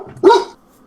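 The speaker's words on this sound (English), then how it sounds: "What are we barking at?" A dog gives one loud, close bark that stands out clearly against quiet room tone.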